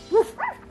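A child imitates a dog with two quick, high woofs in a row, close and clear, during a giant pool board game.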